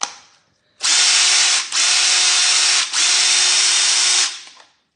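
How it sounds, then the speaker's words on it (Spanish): An old Makita cordless drill powered by a DeWalt battery through an adapter whines loudly at steady speed in three close bursts with brief dips between, then winds down. "aquí tengo un taladro Makita que ya tiene mucho tiempo"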